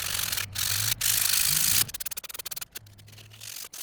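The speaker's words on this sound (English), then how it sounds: "I'm gonna go ahead and touch it up a little bit with this 220 grit sandpaper" 220 grit sandpaper rubbing over red oak revolver grips, a continuous close scrape at first, then quick rhythmic back-and-forth strokes, loud and alone.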